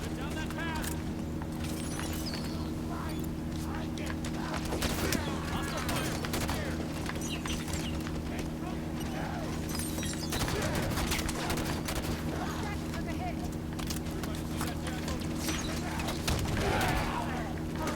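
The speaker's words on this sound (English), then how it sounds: "I can never tell if that's a Covenant shooting or if that's Vale shooting" Steady game gunfire from Covenant enemies in Halo 5 keeps crackling through a dense battle soundscape with a constant low hum and scattered shots for the whole stretch.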